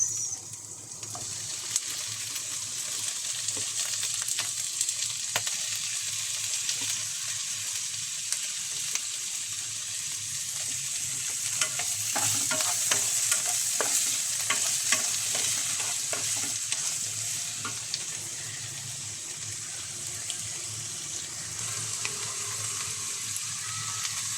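Tomatoes sautéing in a pan for beef ox leg sinigang, a steady broadband sizzle with scraping stir strokes and a few louder clatters, continuous and close with no talk.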